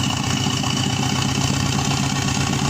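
A turbocharged Subaru Forester SG9 with the EJ255 engine idles steadily and loudly up close, a constant even rumble with no talk over it.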